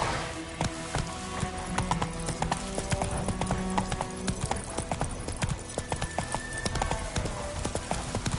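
Hooves of Roach, Geralt's horse in The Witcher 3, clop rapidly and rhythmically over hard ground at a brisk pace, close and loud throughout, with a faint whinny-like tone partway through.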